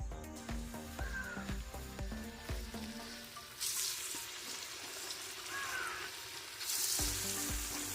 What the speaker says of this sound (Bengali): সেকেন্ড রাউন্ড পাকোড়াগুলো আমরা ফ্রাইয়ের জন্য কড়াইতে দিয়ে দিচ্ছি